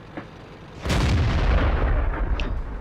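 A tank cannon fires in World of Tanks from an SU-85B: one loud, close boom followed by a sustained rumbling tail that fills the rest of the moment, with no talking.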